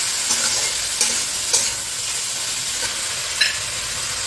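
Onion, ginger paste and tomato frying in a pan for a meat dish give off a steady sizzle, broken by four or five stirring scrapes at a regular pace, close and fairly loud with no talk.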